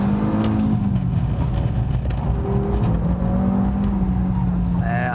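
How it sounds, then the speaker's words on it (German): Audi RS3 five-cylinder engine revving hard at full throttle during a fast lap, a loud, continuous rising and falling engine roar heard close up with no talk. "voll aufs Gas gehe"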